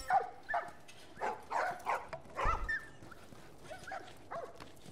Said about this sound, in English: Look at the doggies.